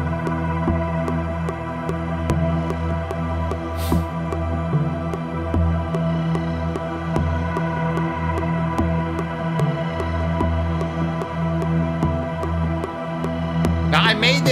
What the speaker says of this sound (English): It's a quirky ass little drum computer called Axon.